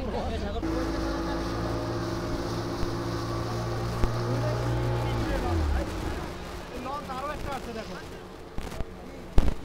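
A speedboat carrying eleven people runs along a tree-lined river toward the sea, its engine a steady, close drone throughout, with voices talking over it.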